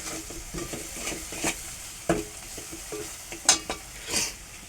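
Chopped onion sprinkled with salt fries in a pan for a stuffed brinjal curry, a steady sizzle broken by several sharp stirring scrapes and clinks of a utensil against the pan, close by with no voices.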